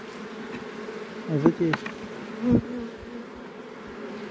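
Honey bees buzzing steadily during a beehive inspection at a pine honey harvest, a constant hum under brief speech and a few knocks from handling the hive.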